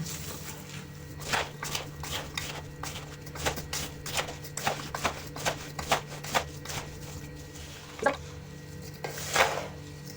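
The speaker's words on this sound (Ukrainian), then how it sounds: "Тут в мене 2 кг ягід. Всипаю 2 кг цукру. перемішую." A spoon stirs 2 kg of blueberries into 2 kg of sugar for jam, making a run of soft, uneven scraping clicks and granular rustles close up, with a few sharper knocks against the pot.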